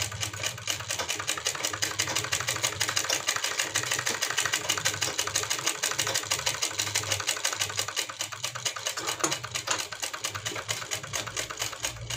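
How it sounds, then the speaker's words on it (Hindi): Loose basting stitches go along the hem of a Patiyala salwar as a sewing machine chatters steadily for about twelve seconds, with a rapid even needle rhythm over a low motor drone, close up and uninterrupted by talk. "तो पहले हम एक सिलाई लगा के इसको कच्चा सिलाई से स्टिच कर लेंगे।"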